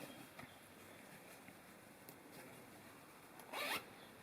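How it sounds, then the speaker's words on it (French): An invisible zipper sewn into fabric is pulled closed, a short quick rasp near the end of a quiet stretch of faint background noise. "Pour contrôle, je referme ma fermeture éclair."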